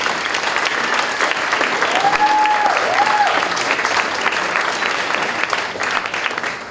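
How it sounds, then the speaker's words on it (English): A talks-event audience at Hamilton Supercrawl 2014 bursts into loud, sustained applause and dense clapping that carries evenly throughout, with a brief tonal sweep in the middle. "Ladies and gentlemen, a round of applause for all of those."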